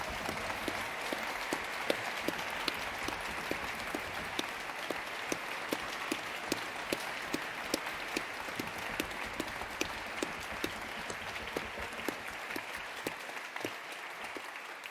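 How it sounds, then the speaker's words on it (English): A crowd at a university graduation ceremony applauds the graduating class, sustained dense clapping from many hands at a steady level for about fifteen seconds, easing slightly at the very end. "can I ask you to join me in a round of applause for our class of 2025"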